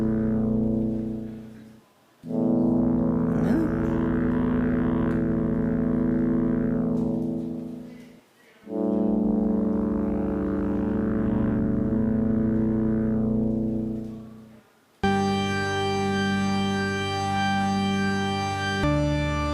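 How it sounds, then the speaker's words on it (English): Vintage computer sound chip playing organ-like chiptune tones with sustained chords and long held notes that swell and drop out in sections, ending with a brighter, denser passage. "you get a really good organ sound out of this"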